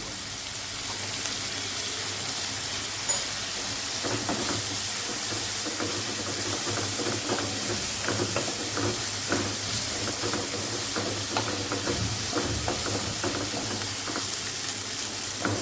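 Onion and tomato with turmeric cook down in a pan for dal, crackling in a steady, moderate sizzle under repeated scraping stir strokes from a spoon, with a low background hum throughout.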